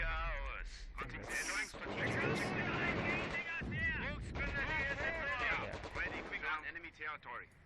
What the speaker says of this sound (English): I need to wait until the barrage is over